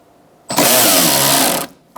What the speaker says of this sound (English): we're going to take out our motor with these 3 bolts